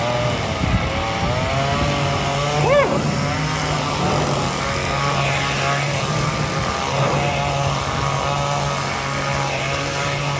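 A chainsaw engine drones steadily throughout with a harmonic buzz during a street performance in Covent Garden, London, while a voice whoops and the crowd reacts faintly in the background.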